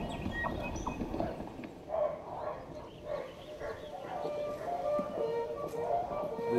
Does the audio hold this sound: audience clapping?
no